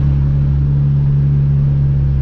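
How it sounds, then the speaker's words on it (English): A Hyundai Genesis Coupe engine drones loudly and steadily from inside the car under hard throttle, with a strong, even low hum and no voices. "I'm gonna do a little bit of wide open throttle down here so you guys can hear it."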